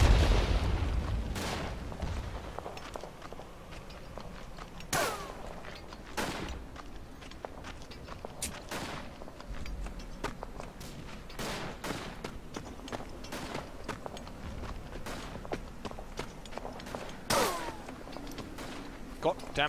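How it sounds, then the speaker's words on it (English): Gunfire in the WWI shooter game Verdun, with sharp single rifle shots and distant booms spread irregularly across about 20 seconds, some close and loud, others farther off, with a person talking in between. "stop shooting at me!"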